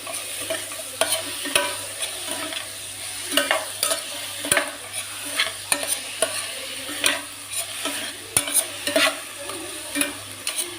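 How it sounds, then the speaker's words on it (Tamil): Vegetables for a veg gravy sizzle in a hot pan while a spoon stirs them, scraping and clinking in an irregular rhythm over a steady frying hiss. "இப்போ இதெல்லாம் ஒன்றா மிக்ஸ் பண்ணி விட்டுருலாம் இது நல்லா வதங்கட்டும்"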